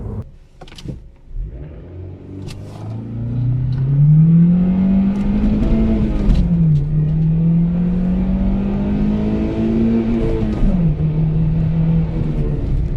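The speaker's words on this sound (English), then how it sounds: "With a good launch, a good hard shift into second and valve bouncing it at the top of second gear, just managed to scrape 100 out of it" An Integra Type S accelerates hard from 0 to 100 km/h, engine note climbing steadily, dropping sharply at a quick gear shift, climbing again and shifting once more, loud and close from inside the car with no talk.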